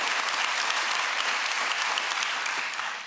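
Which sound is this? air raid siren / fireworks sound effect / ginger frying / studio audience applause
studio audience applause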